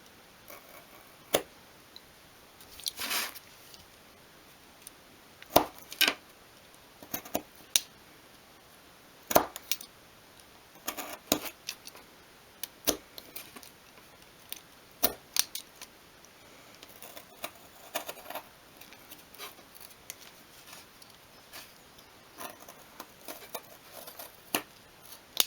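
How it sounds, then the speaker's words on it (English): Small crisp snips and clicks of cutting through thin pieces for a 1/12 scale miniature garden shed, quiet and close, scattered irregularly in quick clusters with no speech. "Make your line of where you want to go, and then start slicing through."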